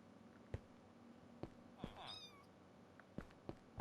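A cat meowing in the video game Minecraft, one short rising meow in the middle, fairly faint, among scattered clicks and soft game ambience.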